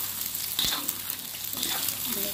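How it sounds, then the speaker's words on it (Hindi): Egg and vegetable fried rice sizzles in a pan while it is stirred, a steady frying hiss with a sharp scrape or clink of the spoon partway through. "अच्छी तरह हिलाना,"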